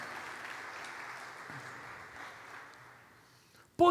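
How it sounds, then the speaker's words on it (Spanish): A church congregation applauding, a broad wash of clapping that gradually fades before a sudden loud burst at the end. "Denle un aplauso a la gloria de Dios."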